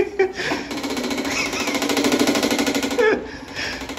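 An automated Roto-Wipe wiping machine runs with a rapid, rattling, lawnmower-like buzz that stays loud and close for several seconds, with a brief pause near the start.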